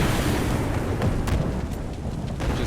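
A rocket launcher fires in a video game still in development, giving a loud, continuous rushing roar of explosive thrust with faint crackles laced through it.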